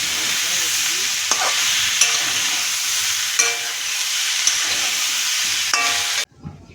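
Vegetables with soybean fry in a pan with a loud, steady sizzle, broken by periodic clattering strokes of a spatula stirring, before the sound cuts off abruptly near the end.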